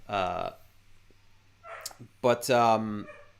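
A fussy dog whines and yelps in two clear bursts, close and fairly loud, with quieter rough vocal sounds between them.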